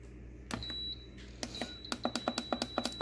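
The control panel of a pressure cooker beeps as the beef program is set: one beep, then a pause, then a fast run of about nine sharp, close button beeps with a faint steady tone behind them.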